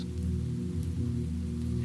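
Rain falls on a rooftop as a steady, even patter over a low, continuous hum, with a few faint drops standing out.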